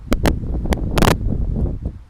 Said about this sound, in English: we got a big wind gust again, so I'm just holding shit down